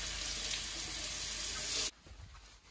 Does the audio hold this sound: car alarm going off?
no